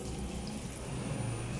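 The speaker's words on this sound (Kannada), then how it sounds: "ಈಗ ನೀರು ಸೇರಿಸ್ತಾ ಇದ್ದೀನಿ." Water poured into a pot of sambar, a steady continuous splashing pour, close and alone.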